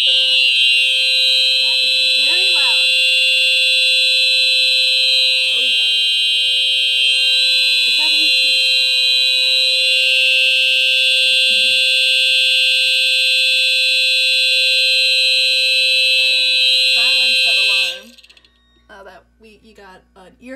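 A home alarm system sounds during a test, a loud continuous high-pitched electronic beep running steadily for most of the clip before cutting off, with a person talking faintly over it.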